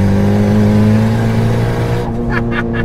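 A turbocharged 500 hp 2014 Honda Civic engine holds a loud, steady drone with strong low harmonics, then briefly flutters near the end with a few sharp bursts.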